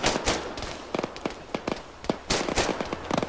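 Gunfire in the military shooter game Arma 3, with a rapid string of sharp reports and scattered single shots over about three seconds, loud and fairly close.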